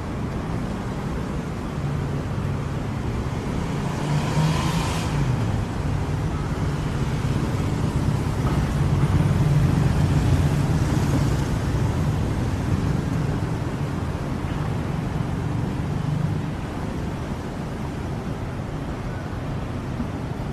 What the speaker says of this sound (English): It's 5:30 PM now on weekdays, so it's rush hour in the city. Cars are everywhere